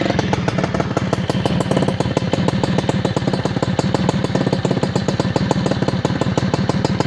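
A Suzuki Crystal motorcycle engine idles steadily outdoors on dirt ground, loud and close, with a fast regular putter and a bright, sharp exhaust note running evenly throughout.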